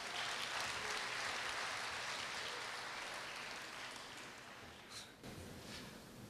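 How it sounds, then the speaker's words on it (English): Audience at a Korea University graduation ceremony applauding to welcome a professor to the stage, steady broad clapping that holds for several seconds and then thins, fairly faint and distant. "Please welcome him with a warm applause"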